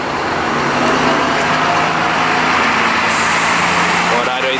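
A Gontijo intercity bus pulls out of the Tietê bus station, its engine droning loudly amid busy terminal noise, with a sharp hiss of air brakes near the end and voices around.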